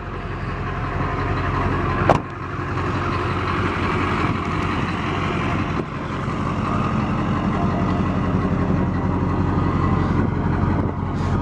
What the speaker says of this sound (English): The truck does have an aftermarket exhaust, 4-inch exhaust.